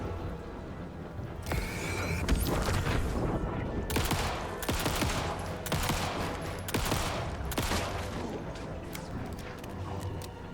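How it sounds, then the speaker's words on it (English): Full-automatic pistol fire in the video game Alan Wake 2, sounding as rapid loud bursts of shots that repeat through the scene with short gaps and some background game noise. "we got the full automatic pistol"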